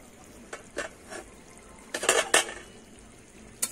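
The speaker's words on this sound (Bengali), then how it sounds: "আমি ঢাকনাটা এবার খুলে দেখে নেব।" A metal pot lid comes off a simmering pan of green jackfruit and prawn curry with a few light clinks, then a louder clattering burst near the middle and a final tap, close and alone with no voices.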